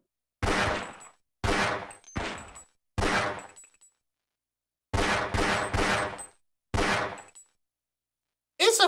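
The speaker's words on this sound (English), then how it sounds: "It's a fairly accurate gun." Single gunshots from a fairly accurate gun in Half-Life: Blue Shift, fired in a slow irregular series of about eight sharp loud cracks with short decays and silence between them.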